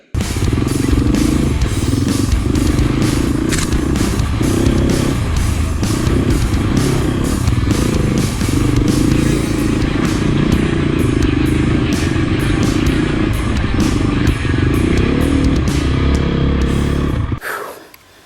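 A KTM 250 XC-F dirt bike engine runs steadily and loudly on a trail in Ocala National Forest, revving with rough rattling and clatter over uneven ground, then cuts off near the end.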